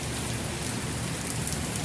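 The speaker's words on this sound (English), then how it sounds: "But it's raining." Steady outdoor rain in North Carolina, a dense, loud, continuous hiss of falling drops with no pauses or voices throughout.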